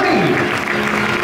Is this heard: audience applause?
yes